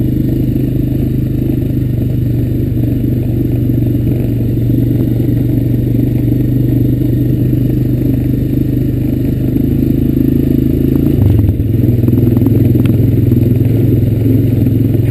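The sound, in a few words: Honda Recon ES ATV riding on rugged trail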